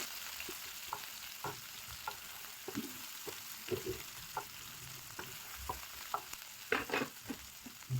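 Onion and capsicum fry in hot oil with ginger and garlic, a soft steady sizzle broken by scattered scrapes and clinks of stirring, fairly faint and close, with no talking.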